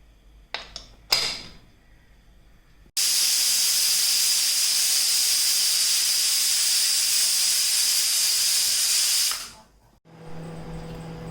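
A pressure cooker of dal on the stove releases a loud, steady jet of hissing steam for several seconds after a few brief clanks, then falls quiet, leaving a faint low hum.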